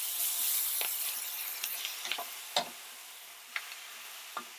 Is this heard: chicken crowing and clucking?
no